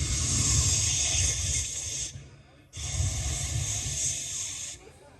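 Two long breathy hisses from a voice imitating a snake, each lasting about two seconds with a short pause between, loud and close.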